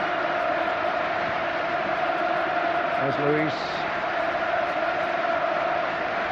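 A 40,000-strong football crowd at Old Trafford roars in a continuous, dense wall of noise during a Manchester United versus Barcelona Champions League match, with a commentator talking over it.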